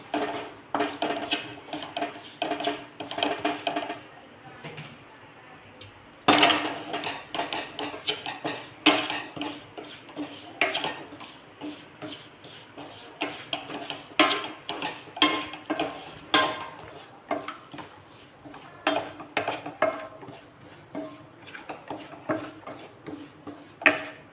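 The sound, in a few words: stirring semolina roasting in ghee in a pan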